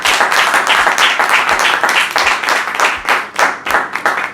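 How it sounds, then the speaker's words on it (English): A room full of Toastmasters meeting attendees breaks into a sustained round of applause, dense steady clapping lasting throughout without pause, fairly loud and close. "Can we have a round of applause for that entire session"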